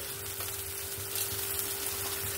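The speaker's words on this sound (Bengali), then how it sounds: "আর 1 চামচের মতো ধনে গুঁড়ো দিয়ে আমি এটাকে ভালো করে আরেকবার কষিয়ে নেব" Ground spices (chili powder, turmeric, cumin and coriander) with green chilies sauté in a pan for tomato rice, giving a steady, soft sizzle that stays even throughout, with a faint constant hum underneath.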